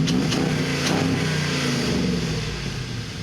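Engine of a 1960 International Metro Van running at a steady idle with a slight rev, moderately loud with a rough rumbling texture, no talk.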